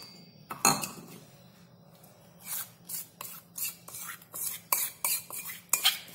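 A spoon scrapes and stirs raw mango paste together with another paste in a large bowl, giving a run of soft, irregular close-up scraping strokes with short quiet gaps, no talking.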